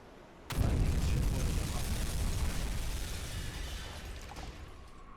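A torpedo striking a ship in the Uboat submarine game, heard as a sudden heavy boom with a long, loud rumbling roar that slowly fades over several seconds.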